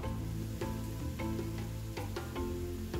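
Garlic, ginger and onions sizzling in a pan with a little rendered chicken fat, a soft steady frying hiss with a few faint clicks, quiet and close.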